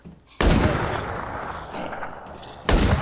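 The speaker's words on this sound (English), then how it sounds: "Dude, he's shooting me!" Gunfire in the zombie survival game The War Z: a loud burst of shots, then a sustained rumbling spray of fire that tapers, with another sharp burst at the end.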